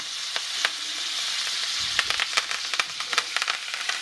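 Filet mignon searing in a pan with butter and a little oil, a continuous close sizzle peppered with sharp pops and spatters that grow busier toward the end, no talking.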